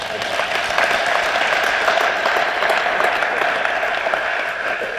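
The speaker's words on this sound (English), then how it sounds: "And he deserves a round of applause for that." Steady applause from the crowd at a racer reunion gathering, loud and sustained across the whole stretch with no break.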